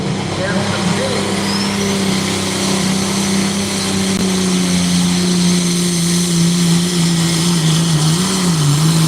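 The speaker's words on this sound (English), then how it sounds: "I hear the RPM starting to come up" A pulling tractor's engine at a night pulling competition in Rockwell, Iowa, drones loud and steady with its pitch creeping upward, under an announcer's voice.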